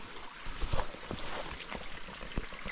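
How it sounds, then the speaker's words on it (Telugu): A small mountain stream on the Dzukou Valley trek near Viswema, Nagaland, gives a close, uneven trickling rush, with a few brief splashy bursts and no talk. "అబ్బో స్ట్రీమ్ ఉంది ఇక్కడ"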